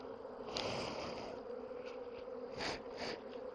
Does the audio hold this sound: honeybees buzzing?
yes